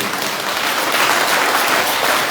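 An audience at a spiritual discourse claps steadily, a dense, even wash of many hands for a couple of seconds with no talking.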